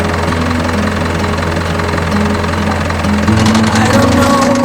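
Steady, loud engine drone of a vehicle cruising in fifth gear on the gravel Dempster Highway toward the Arctic Circle in Canada, with a low constant hum and cabin rumble throughout and a slight rise in tone near the end.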